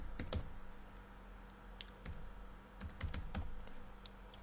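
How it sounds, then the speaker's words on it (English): Typing on a computer keyboard, a quick irregular run of close key clicks with short pauses, no talking. "I've typed a few things"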